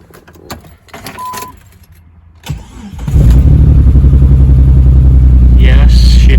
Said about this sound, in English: Now I'm gonna see if the Jeep starts.